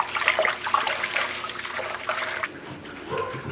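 Water pours steadily into grain while mashing in a batch of homebrew beer, a continuous gushing splash up close that softens to a lighter trickle near the end.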